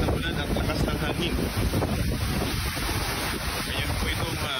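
Typhoon Uwan's strong rain and wind lash Baras, Catanduanes, a dense, steady roar of gusting wind and pouring rain that fills the whole stretch, loud and continuous with no pauses.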